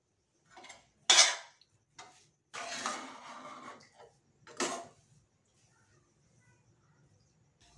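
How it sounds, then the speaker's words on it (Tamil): A spoon stirs thiruvathirai kali in a pot on the stove over a low flame. Several short scraping and clinking bursts come up close, separated by quiet gaps. "இப்போ இதை அடுப்பை சிம்மில் வச்சு கிளறி எடுத்துக்கோங்க"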